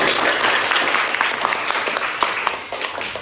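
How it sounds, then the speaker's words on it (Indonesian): A classroom of students applauds group 1 after their presentation, dense clapping that starts loud and gradually thins and fades toward the end. "Tepuk tangan untuk kelompok 1."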